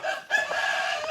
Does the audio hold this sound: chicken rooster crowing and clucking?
yes